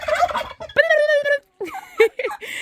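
Domestic turkeys gobble loudly and close by in a backyard flock kept with chickens and guinea fowl, several rapid warbling bursts separated by short pauses.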